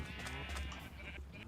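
Sheep in the Minecraft video game bleat in short, nasal wavering cries, a couple of calls close together against soft background noise.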